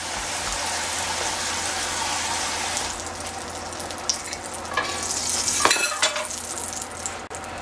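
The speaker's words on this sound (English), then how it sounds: "cook the eggs" Eggs frying in a pan with a steady, close hissing sizzle, a brief louder crackle partway through and a faint clink near the end.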